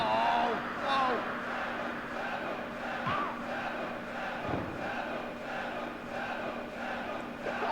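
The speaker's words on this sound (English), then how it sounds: "The fake ECW crowd." A crowd chants in an ECW Hardcore Revolution wrestling video game, a steady wash of crowd noise running under a voice talking over it.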